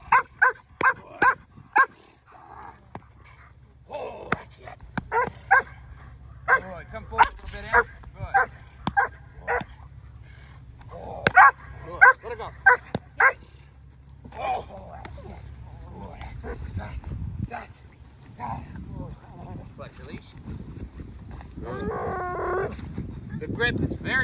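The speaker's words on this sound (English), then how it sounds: "The dog is very confident." A German Shepherd barks in loud, repeated bursts during protection and grip drills, the barks coming in quick runs over steady low rumble, with a trainer's voice talking and urging in between.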